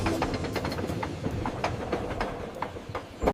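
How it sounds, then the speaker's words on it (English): A train rolls past as a sound effect in a children's phonics song, with loud rhythmic clickety-clack of wheels over rail joints above a continuous rumble. "T for train."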